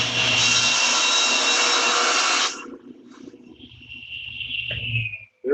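A table saw or similar blade makes a trim cut through a board held tight against the fence, a loud steady whine for about two and a half seconds that stops abruptly, followed by a quieter high ringing tone as the blade spins down.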